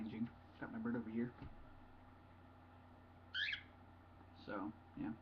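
Pet bird in an indoor room giving a few short, bright calls spaced apart, moderately close, in between and just after a person talking quietly nearby.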